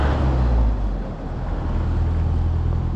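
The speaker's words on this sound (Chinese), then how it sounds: "好多公交车呀" City buses and road traffic in Hegang pass along a street in winter, a steady loud rumble of engines and tyres with a swelling pass-by at the start, close and continuous, no voices.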